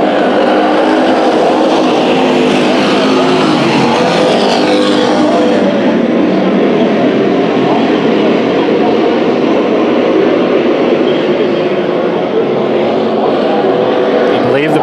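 Race cars battling for the lead at Bakersfield Speedway, with a loud, continuous engine roar that pans and shifts as cars pass, heavy and close for the whole stretch, with possible announcer talk mixed underneath.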